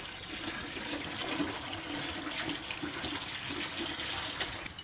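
Tap water runs steadily into a kitchen sink during cooking while hands wash under the stream, a continuous close splashing rush with no voices.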